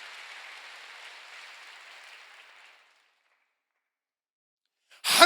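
Church congregation applauding during a sermon, a soft even patter of clapping that fades away to silence partway through, followed by a sudden loud noise at the very end.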